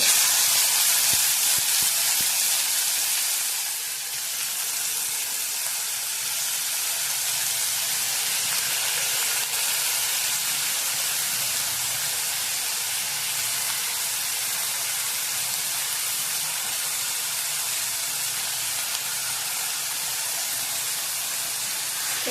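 Fresh green chickpeas frying in hot oil in a pan, a loud continuous hiss and sizzle that holds steady for over twenty seconds, with no voices.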